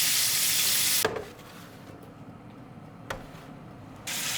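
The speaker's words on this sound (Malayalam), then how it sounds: "ഇതിന് ഞാൻ ഇനി രണ്ടാമത് ക്രിസ്പി ആക്കാനുള്ള ഒരു ഫ്രൈയും കൂടി ചെയ്യാൻ പോകാൻ കേട്ടോ" Chicken pieces sizzling in hot oil at 200 degrees during a second crispy fry for Korean fried chicken: a loud steady hiss that drops away, with a few sharp clinks, then the frying hiss surges back.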